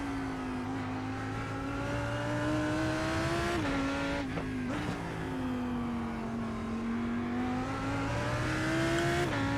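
Lamborghini Huracán GT3 Evo race car at Okayama in iRacing, engine holding a steady high drone that rises and dips with shifts and braking, continuous and loud from the cockpit, without voices.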